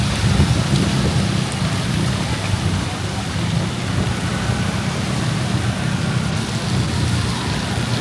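Heavy rain pouring on a street in Cambodia, a loud dense continuous hiss and patter with low rumbling underneath, steady throughout.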